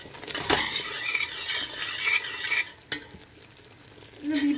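Orange halwa made from grated orange cooking in plenty of oil, stirred with a utensil that scrapes and clinks against the pan over a steady sizzle, with a few sharp knocks along the way.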